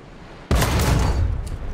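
A tank cannon fires once in a tank video game, a single loud, sudden blast that cuts in abruptly and rolls into a sustained heavy rumble with no talk over it.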